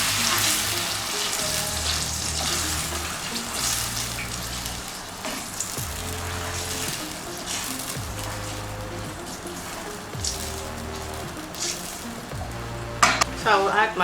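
Tomatoes stirred into a sizzling pot of gizzard and plantain sauce for a Nigerian dish, a steady loud frying hiss with rhythmic scraping stir strokes throughout and a brief clatter near the end, with no talking.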